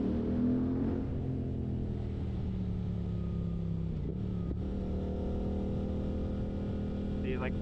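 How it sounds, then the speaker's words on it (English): Suzuki GSX-8R motorcycle exhaust echoing inside a tunnel, a steady loud engine drone with sustained harmonic tones that rise slightly as the bike pulls through, with a voice briefly heard over it. "Let me give you guys some action of this exhaust."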